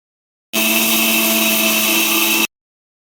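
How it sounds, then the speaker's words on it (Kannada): A mixer grinder grinding batter whirs loudly and steadily for about two seconds, starting and stopping abruptly, with silence on either side. "ಆದರೆ ನಾನೀಗ ಮಿಕ್ಸಿಗೆ ಹಾಕ್ತಾ ಇದ್ದೇನೆ"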